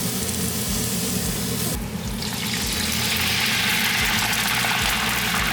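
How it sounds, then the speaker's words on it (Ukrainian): Onion and garlic frying in a pan, a steady, loud hiss and sizzle that carries on throughout, with a low hum beneath and no voices. "Зараз я обжарю цибулю, а також додала часник."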